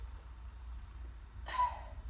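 A voice imitates strained breath-holding during a sit to stand: a short, tight forced exhale or grunt of bearing down, brief and fairly quiet after a stretch of near silence.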